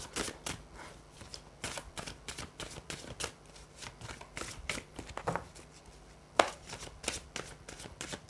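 Tarot cards are shuffled for a reading, with quick riffling bursts and soft slaps in an irregular rhythm, close and fairly quiet, with a brief sharper snap near the end.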